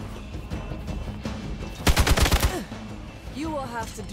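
Rapid automatic gunfire in the video game Marvel's Midnight Suns rattles out in a loud burst of about eight shots, with game voices before and after.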